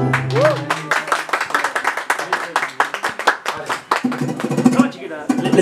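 A birthday audience applauds a youth mariachi band after a song. The dense, steady clapping runs throughout, close and loud, with voices calling out over it.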